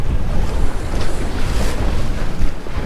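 Steady, loud wind roars and buffets the microphone throughout on a sandy beach on Bantayan Island, mixed with a rushing wash like surf, with no voices.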